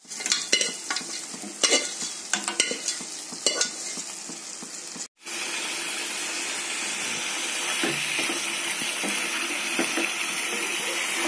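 Mutton pieces frying and being stirred in masala in a pan: a dense, steady sizzle with scraping stir strokes, briefly cut off before resuming louder and continuous.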